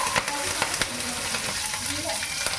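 Green chillies and onions fry in hot oil for a fish curry, a steady close sizzle with light crackles and a few stirring scrapes.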